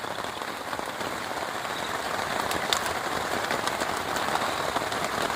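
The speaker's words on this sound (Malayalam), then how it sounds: "പുറത്ത് നല്ല കിടിലം മഴയും." Heavy rain pours down outside a riverside campsite, a dense, constant hiss of drops hitting surfaces with faint crackles, loud and unbroken, with no talking.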